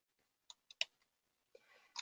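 Several sparse, faint key clicks come from a computer keyboard as metadata fields are filled in during invoice entry, with a short soft rustle near the end.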